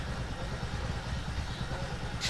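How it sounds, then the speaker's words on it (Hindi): A motorcycle engine runs steadily, a low continuous rumble close by with no clear revving, ending in a brief noisy burst. "बाइक चलल है?"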